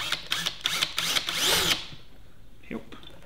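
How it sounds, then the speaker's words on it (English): A sharp power drill bores holes near the bottom of a homemade bee pollen feeder in short whirring bursts, then one longer run that stops abruptly. "we just want to drill some holes in the bottom here"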